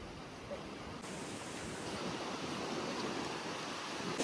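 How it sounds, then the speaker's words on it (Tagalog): Strong wind sweeps across a beach on Boracay during the habagat season, a steady close roar buffeting the microphone with no voices. "Mahangin ngayon."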